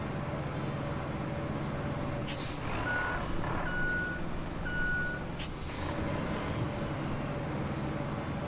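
Truck reversing beeps from a vehicle in the RoadCraft video game: three evenly spaced electronic tones over a steady rumbling engine bed, with short hissing bursts like air brakes before and after.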